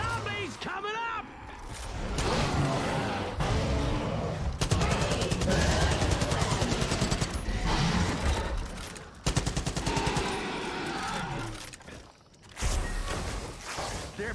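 Dense gunfire in Far Cry 5 during a zombie mode fight, rapid bursts and overlapping shots running almost continuously with brief gaps, loud and mixed with other game noise and a voice talking over it.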